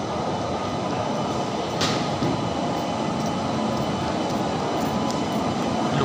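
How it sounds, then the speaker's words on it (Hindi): Trains moving through an Indian railway station platform, a steady loud rumble and broadband roar that holds for the whole stretch, with a brief faint squeal partway through and no voices. "ये सब ट्रेनों का आवागमन चालू हो चुका है।"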